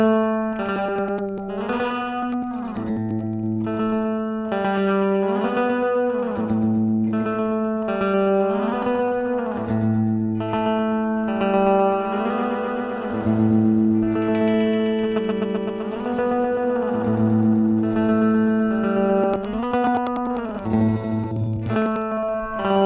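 A Boss PS-3 pitch shifter delay pedal is set to a long delay with heavy feedback, and its guitar repeats warble and swoop in pitch as the knobs are turned, a dense, continuous, echoing wash with no talking.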